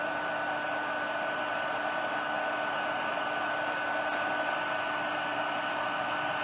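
A heat embossing gun melts embossing powder on a paper craft project, blowing a steady, loud, unbroken whoosh with a constant motor hum, close by, alone and with no talking.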